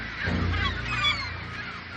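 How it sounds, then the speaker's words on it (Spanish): Canada geese honk repeatedly in a noisy, overlapping chorus, loud and close, over a low rumbling background. "Las gaviotas y los gansos de Canadá se agrupan en los aeropuertos"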